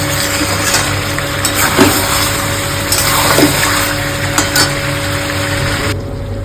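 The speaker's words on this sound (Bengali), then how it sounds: "এবার জল দেবো" Water poured into a pan of simmering curry, a steady bubbling and splashing wash with a few louder sloshes, close and fairly loud, with no talking.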